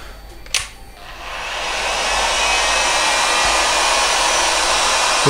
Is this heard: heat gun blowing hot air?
yes